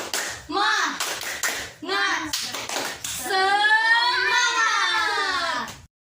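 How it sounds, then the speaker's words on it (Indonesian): A third-grade primary classroom claps out a rhythmic spirit cheer in short bursts, with the children chanting along in unison between and over the claps. "Kita akan tepuk semangat ya."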